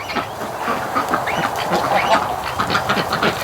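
Ducks quack repeatedly at close range around a water tub, joined by the honks of geese, a busy overlapping chorus of calls throughout.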